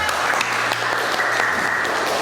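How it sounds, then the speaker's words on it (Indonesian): Classroom applause from students after a group presentation, a steady burst of close clapping with a faint low hum beneath. "Tepuk tangan dulu untuk kita semua."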